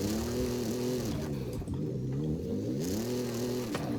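A GMC Syclone sliding at low RPM in Forza Horizon 5 gives a steady, close, low engine drone, with a subtle rise and fall in pitch as the truck drifts. The note stays continuous and loud throughout, with no talk.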